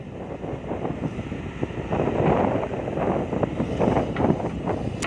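Strong, gusty wind buffets an outdoor microphone with a steady broadband roar, swelling louder in the middle and toward the end, with no voices.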